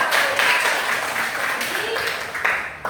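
Schoolchildren in a primary maths classroom applaud a classmate with a dense, loud, continuous patter of hands. The clapping lasts the whole moment, with children's voices faintly underneath.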